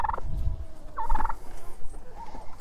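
Birds in a backyard chicken run built from 2x4s make throaty, gobbling calls in short bursts, close and fairly loud with low thumps between calls.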